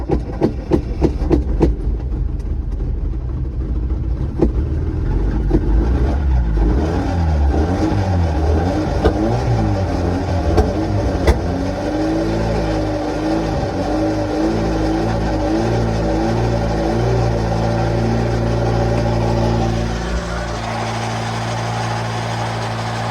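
An abandoned Mitsubishi-made Dodge Ram 50 that sat for over a decade runs close by with a poor air-fuel mixture: a loud rough idle that rises and falls through several revs, then settles to a lower steady drone.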